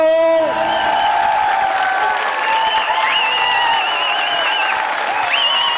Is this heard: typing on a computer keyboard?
no